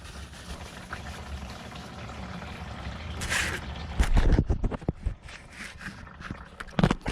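Engine oil pouring from the drain of a 2021 Subaru Forester during a DIY oil change, a steady close liquid splash that grows louder midway with scattered clicks and handling noises.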